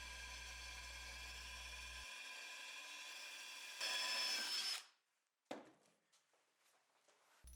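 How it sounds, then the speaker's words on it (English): A power drill whirs steadily, then revs louder as it bores through, stops abruptly, followed by faint clicks and rustling. "Now that you're comfortable drilling the first hole, the second hole should actually go quite a bit easier."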